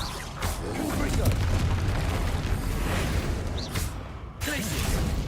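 Confringo fire spell explosions in Hogwarts Legacy burst repeatedly with booming blasts over a continuous rumbling battle din, loud and near, with a voice speaking at times.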